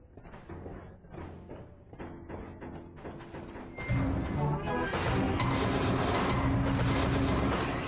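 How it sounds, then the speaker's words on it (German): A train crosses a bridge in the Bridge Project video game, a steady rumbling roll with rhythmic clacking that swells louder partway through and keeps going. "So, jetzt kommt der Zug."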